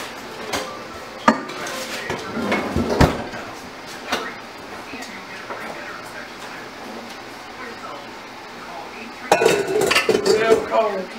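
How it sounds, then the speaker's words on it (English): A chilled mixing bowl is pulled out of a freezer with scattered clinks, knocks and thuds of a door and bowl, a brief clatter near the start and a busier burst of handling at the end. "I'll get my bowl out of the freezer"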